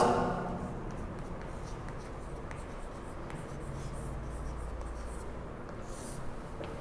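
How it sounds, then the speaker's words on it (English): A pen writes trigonometry formulas by hand on paper, a soft close scratching with faint taps and strokes, quiet and continuous with no talk. "So before starting the next exercise, I am writing few formulas."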